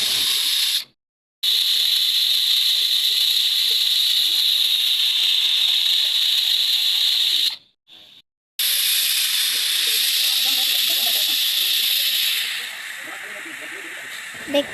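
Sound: pressure cooker hissing and whistling

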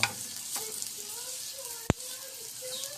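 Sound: beaten egg poured into pan with fried hotdog, sizzling

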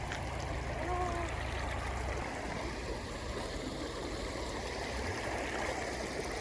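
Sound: Carpathian mountain river stream flowing

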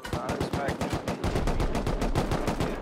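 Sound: rockets fired at a tower in the video game Rust

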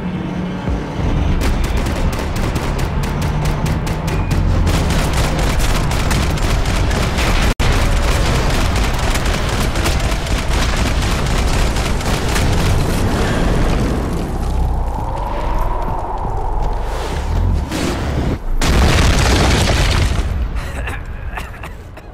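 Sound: gunfire and explosions in video game Max Payne 3

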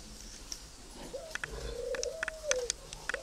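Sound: spotted doves cooing

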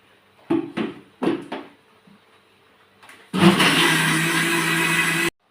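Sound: mixer grinder grinding soaked rice with water for palada

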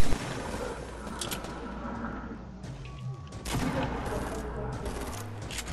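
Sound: gunfire from a three-shot burst weapon in Fortnite video game

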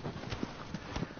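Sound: horse Agro galloping hooves in Shadow of the Colossus video game

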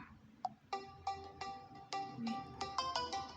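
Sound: phone ringtone, incoming call

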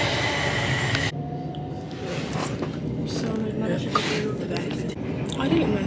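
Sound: riding on a train

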